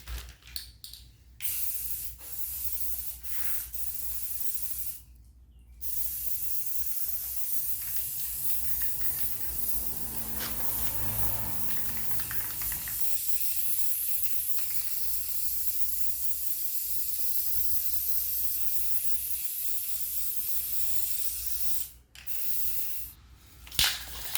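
Spray paint hisses from an aerosol can in long continuous bursts, broken by short pauses and faint rattling between sprays.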